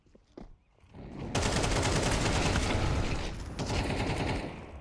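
Sustained rifle gunfire in a Counter-Strike duel during a professional match, a dense continuous burst of rapid shots after a few brief early pops, loud and close throughout.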